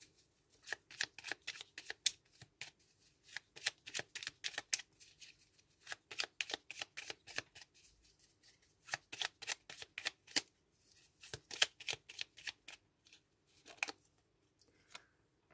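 Oracle cards are shuffled in quick riffling bursts, repeated many times with brief pauses between, close and crisp in a quiet room.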